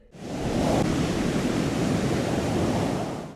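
Sea waves break and wash along a sunny beach where surfers ride a choppy sea, a continuous full roar of surf that swells in quickly, holds steady and fades at the end.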